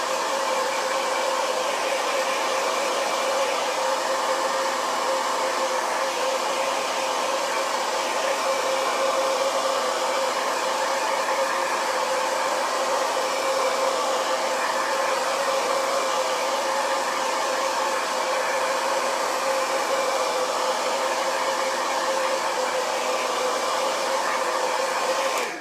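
A blow dryer on its cool setting runs steadily and close by, drying ink on a towel with an even, unbroken whoosh of airflow and no voices.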